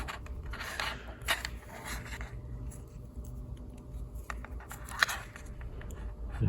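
A screw is driven by hand into a cable clamp on a TrueBrake V2 pedal during potentiometer installation, giving soft, close scraping and rubbing turns with a few sharper clicks.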